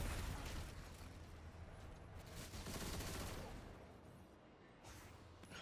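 Osteo Striga weapon fire in Destiny 2, a sustained barrage of rapid shots and bursts blending into continuous loud gunfire and impacts throughout, with no voices.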